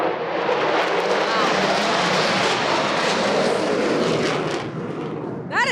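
Airplanes roaring overhead at the Daytona 500 stock car race, a loud broad jet rush that swells and fades over several seconds, with people talking underneath.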